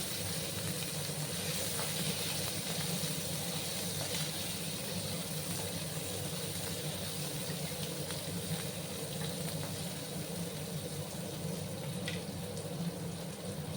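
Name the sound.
chopped tomato sizzling in frying pan with Tangra fish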